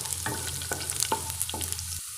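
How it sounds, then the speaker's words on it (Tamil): Garlic fries quietly in hot oil in a pan for raw plantain masala podimas, with a soft sizzle under several distinct scraping stirs of a spoon, near and unaccompanied by voices. "எண்ணெய் நல்லா காஞ்சிச்சு. இப்போ நம்ம பூண்டு சேர்த்துடலாம்."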